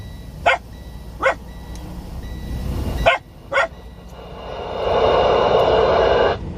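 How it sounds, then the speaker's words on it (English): A dog barks four times in single sharp woofs spaced over a few seconds, followed by a steady rushing noise swelling near the end. "Max, what are you even barking at?"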